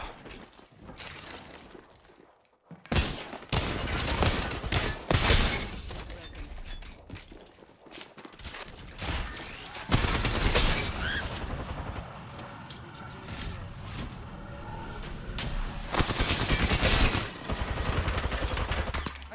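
Gunshots in a video game crack in dense bursts and scattered single shots, loud and close, with shattering and booming impacts between volleys and a brief silence early on.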